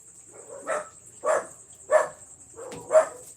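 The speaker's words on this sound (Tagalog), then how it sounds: "Medyo maingay yung aso." A dog barks four times at a steady pace, close by, over a faint constant high-pitched whine.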